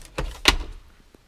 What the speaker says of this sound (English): Press the button right here. On both sides, doors close.